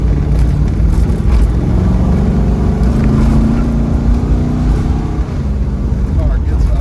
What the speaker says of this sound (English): The car gets up and goes.